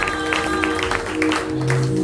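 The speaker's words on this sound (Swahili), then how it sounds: "Tumchapie Yesu makofi." A church congregation clapping their hands for Jesus, a dense, steady patter of applause with sustained keyboard tones ringing underneath.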